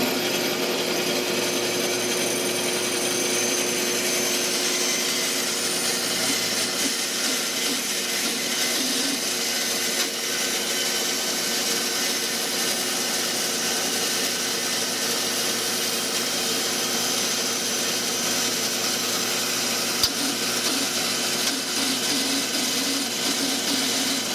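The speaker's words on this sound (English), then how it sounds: "we have clamped the two pieces and I'm going to try to cut them together to minimize the effort of cutting." A power tool saws steadily through two clamped pieces of workpiece at once in a shop, a continuous close, loud grinding whine that holds without pause for the whole stretch.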